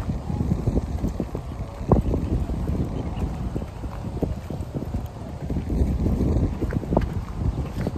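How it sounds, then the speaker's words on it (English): Wind blowing outdoors outside a tire shop, gusting across the microphone in rough, uneven buffeting bursts with low rumbling thumps throughout. "It is a little windy out here"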